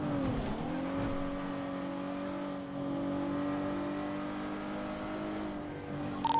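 Nissan GTR car in a video game police chase, a steady engine drone holding a constant pitch after a brief dip at the start, moderately loud and continuous with no talking.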